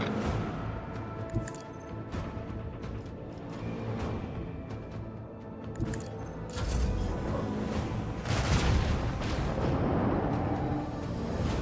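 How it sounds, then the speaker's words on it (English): A torpedo barrage in the game Warhammer 40000 Rogue Trader fires in heavy, rumbling booms and mechanical clanks, with the impacts swelling louder and denser toward the end. "Initiate the barrage! Torpedoes!"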